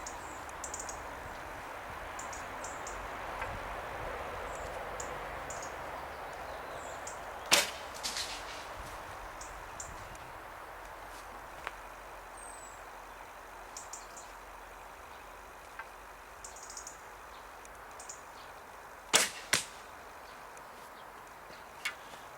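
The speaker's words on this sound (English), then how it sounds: "The first shot of those 2 arrows was really crappy. You could hear it go through the forest." Heavy longbow (warbow) arrows loosed in a forest: two sharp, brief releases several seconds apart stand out against steady outdoor ambience with faint birdsong, the second followed by a quick rattle as it flies.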